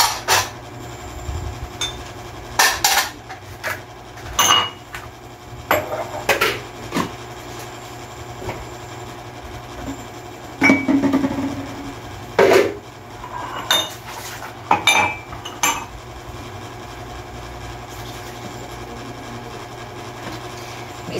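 Dishes, pots and cutlery being washed by hand, with irregular clinks, clatters and scrapes of metal and crockery over a constant low hum of running water or a nearby engine.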